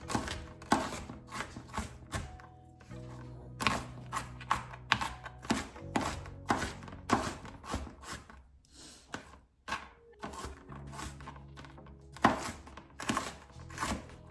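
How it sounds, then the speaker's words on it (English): A knife chops onion on a cutting board for a chicken wrap, a steady run of sharp, close thunks in quick bursts with brief pauses between them, with no talking. "So I cut up this onion."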